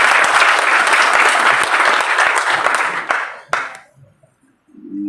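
Loud, dense applause in a legislative council chamber, many hands clapping together for about three and a half seconds before dying out, followed by faint murmuring.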